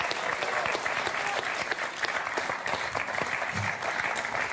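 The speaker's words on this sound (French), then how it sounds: "Et vous avez raison d'applaudir ce très beau face-à-face" A quiz show studio audience claps in a dense, steady burst of applause that holds evenly throughout without a break.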